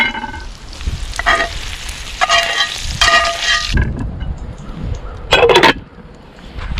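Venison steak fries loudly in butter and oil in a pan set over coals, a dense close sizzle that swells in bursts and eases off, with occasional spatter and scrapes.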